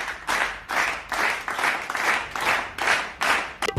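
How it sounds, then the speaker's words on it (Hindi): Rhythmic clapping in short bursts, about eight evenly spaced swells of several hands beating together, close and loud, ending with a few quick separate claps. "ताली बजाते हैं ये"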